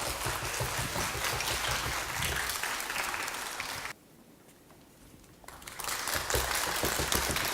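Broadband applause from a concert-hall audience at a children's composition recital, steady and loud, dipping briefly to a quieter lull in the middle before swelling back to full clapping.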